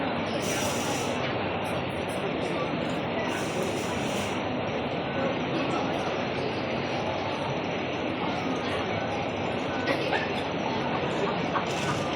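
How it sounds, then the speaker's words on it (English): A Hong Kong MTR train bound for Hung Hom rumbles into East Tsim Sha Tsui station with steady broadband roar and rail noise, continuous and fairly loud, with occasional hisses of air brakes and faint background voices. "往紅磡列車即將到達，請先引車上乘客落車。"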